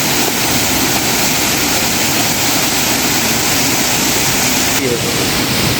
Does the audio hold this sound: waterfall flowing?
yes